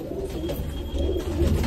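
Pigeons cooing inside a loft, low soft throaty coos repeating steadily and close by, with no talk over them.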